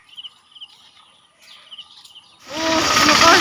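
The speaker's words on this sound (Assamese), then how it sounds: "চৰাই মাত শুনি গৈ আছোঁ" Small birds chirp and whistle faintly in short repeated phrases along a cold road around 6 to 7 AM, then a loud rush of wind or passing traffic swells up and covers them.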